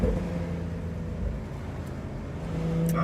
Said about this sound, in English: He's driving past the house.